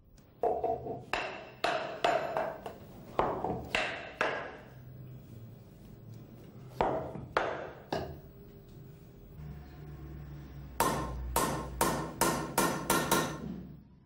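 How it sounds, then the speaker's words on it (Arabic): A silversmith taps a silver armlet with a piece of wood to bend it round, giving light, bright knocks in uneven clusters, some single and some in quick runs, close and clear with no talk. "حتى يقوم بثنيها من خلال الضرب عليها مستخدما الخشب في ذلك حتى لا تتأثر الفضة وتلتوي"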